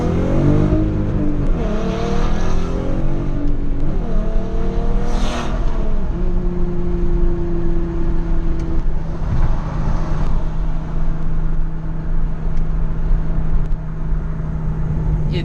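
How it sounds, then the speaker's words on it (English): A BMW M3 with no catalytic converters or resonators and stock mufflers revs up in several rising, throaty bursts, then settles into a loud, steady, droning exhaust note held for the rest of the stretch. "This car has no cats, no resonators, and stock mufflers. It sounds amazing."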